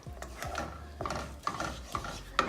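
A spoon stirs cumin powder, heavy cream and yogurt together in a pan, giving close, repeated scraping strokes about every half second with soft wet rubbing between them.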